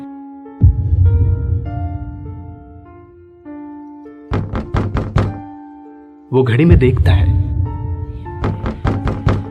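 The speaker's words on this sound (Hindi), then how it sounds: "दरवाजे पर रात में अचानक दस्तक होने लगती है" Sharp thudding knocks on a door at night, set in a spooky story, come in quick clusters of several raps between stretches of sustained eerie background music, with a voice narrating.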